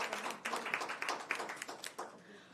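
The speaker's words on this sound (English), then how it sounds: "Please give the team another round of applause." Applause rings out in a room at an education committee's quarterly press conference: a modest round of clapping with sharp individual claps, fairly close and steady for a couple of seconds.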